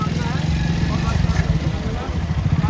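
A motorcycle engine chugs in a steady low rhythm while stuck at a river crossing, with a voice talking over it throughout.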